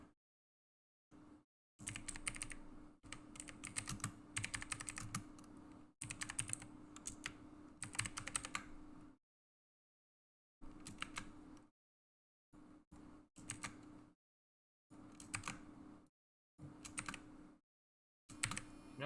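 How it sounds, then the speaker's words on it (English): Bursts of typing on a computer keyboard, rapid clattering keystrokes in runs of a few seconds separated by silent pauses, close and fairly clear with no talking. "I'll be typing away."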